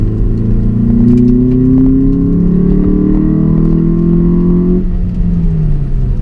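A 2016 Ford Focus SE engine hums steadily and rises in pitch as the car accelerates, then eases off near the end, with continuous road noise underneath.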